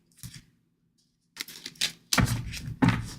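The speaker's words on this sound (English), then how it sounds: "let me shuffle while I'm asking this, Mary." Cards are shuffled in short bursts of riffling and tapping, close up, with pauses of near silence between them and no talk.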